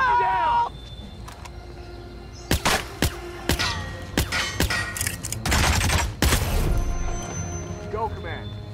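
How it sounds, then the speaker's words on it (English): Several sharp, loud gunshots in the game Hitman (2016) ring out in scattered bursts, some in quick succession, with voices talking beneath and between them. "I heard gunshots."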